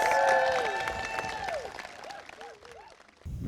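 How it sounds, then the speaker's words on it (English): Applause for graduating fifth graders at a school moving-up ceremony, as clapping and crowd noise under some whistles or cheers that taper off over a few seconds. "Let's have one final applause for all of our graduating fifth graders."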